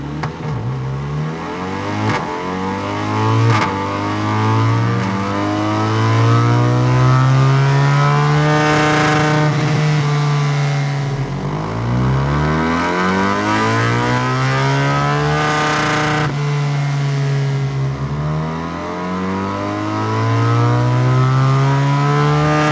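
BMW R1300 GS motorcycle engine revving hard on a dyno, loud and close, pitch sweeping up and down through several repeated rev cycles with steady drone between.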